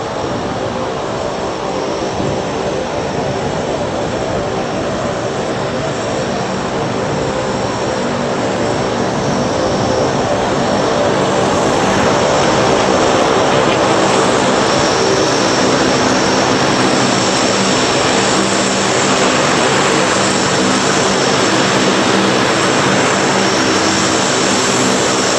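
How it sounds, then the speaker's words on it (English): A Lockheed L-382 Hercules cargo plane operated by Linden Air Cargo roars with a loud, steady drone of its propeller engines, a sustained broadband rumble that swells slightly in intensity partway through, with no voices. "This is the Lockheed L-382 Hercules, operated by Linden Air Cargo."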